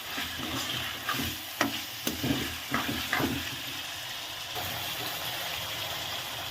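Washed chicken tipped into a hot pot for biryani and mixed, with scraping stirs and light sizzling over a steady background hiss; no voices.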